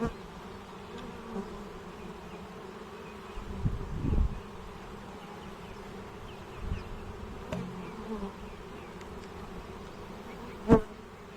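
Honeybees buzz around pure beeswax foundation hive frames in a steady, low, close drone, broken by a few soft knocks and a sharper bump near the end.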